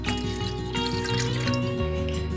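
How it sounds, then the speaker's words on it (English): Distilled white vinegar is poured into pickle brine, giving a steady close trickle with liquid gurgles that runs throughout over soft background music. "1 1/4 cups of distilled white vinegar."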